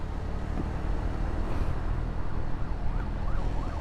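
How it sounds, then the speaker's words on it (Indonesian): A wailing ambulance siren rises and falls over steady night traffic rumble, fairly close and loud, with the tone sweeping repeatedly near the end. "Wah, ambulan."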